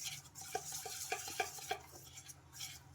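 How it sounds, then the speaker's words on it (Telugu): Butter and powdered sugar mixed by hand in a bowl for Osmania biscuits, a soft steady scraping with a series of light rhythmic taps from the utensil, quiet and close. "మొత్తం ఇలా బటర్ షుగర్ పౌడర్ బాగా మిక్సింగ్ అయిపోయేలాగా బాగా కలిపేసుకోవాలి"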